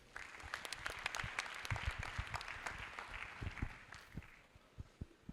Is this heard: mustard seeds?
no